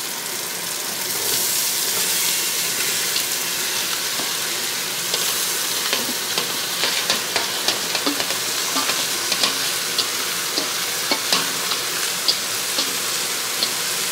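Vegetables hit a hot pan of browned sausage and sizzle steadily, a loud continuous hiss with scattered crackles and scraping stirs throughout, no voices.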